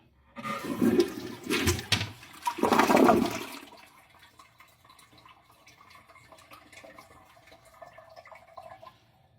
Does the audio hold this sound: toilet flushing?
yes